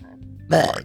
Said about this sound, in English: Oyster burp.